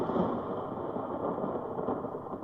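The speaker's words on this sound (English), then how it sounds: "She's out here in this terrible storm." A thunderstorm sound effect for a 1949 Suspense radio drama: steady heavy rain and a low rumbling wash of storm noise, continuous and fairly quiet, with no voices.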